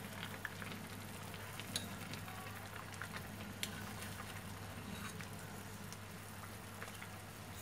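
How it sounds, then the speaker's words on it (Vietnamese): Anabas fish simmering in fish sauce in a pot, a faint, steady bubbling boil with small irregular pops and crackles throughout, no voices. "cá bắt đầu sôi"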